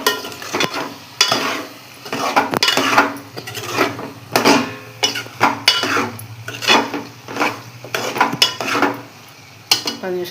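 A spoon stirs egg tomato curry in a metal pan, with repeated clanking scrapes against the pan in an irregular rhythm, close and fairly loud, over a faint sizzle.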